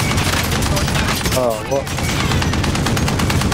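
Rapid sustained gunfire in the video game Call of Duty Warzone, dense and loud bursts of automatic shots throughout, with a brief spoken exclamation over it.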